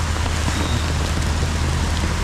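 Heavy rain pours steadily as a dense, constant hiss with a low rumbling undertone, unbroken throughout.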